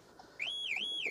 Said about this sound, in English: alarm's going off there